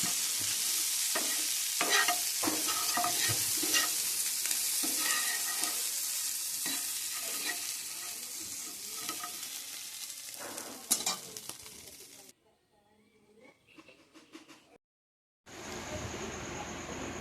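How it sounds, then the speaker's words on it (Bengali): Meat fries and is stirred in a wok, a loud continuous sizzle broken by repeated scraping stirs for about twelve seconds, then near silence with faint clatter before the hiss briefly returns. "মাংসগুলোকে ভাজা ভাজা করব।"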